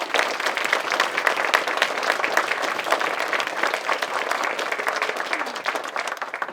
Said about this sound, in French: Je voudrais un tonnerre d'applaudissements pour eux